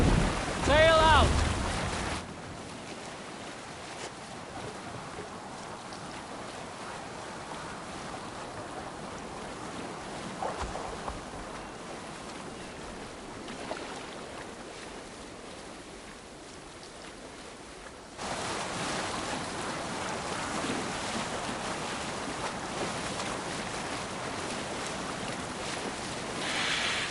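A boat heading out to sea, with steady wind and rushing waves filling the whole stretch, a brief shouted voice at the start and the water growing louder again toward the end.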